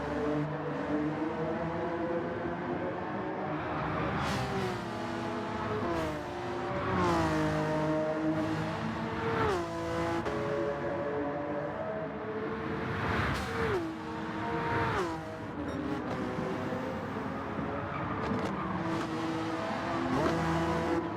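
A race car in a Gran Turismo 7 Manufacturers Cup race: the engine revs rise and fall through repeated gear changes, with tire squeal during a near spin, loud and sustained over about twenty seconds, with no talk.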